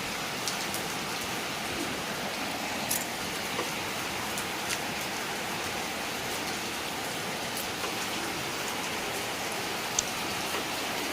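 Steady rain falls outdoors, a dense even hiss of drops with occasional sharper splats close by, continuing unbroken.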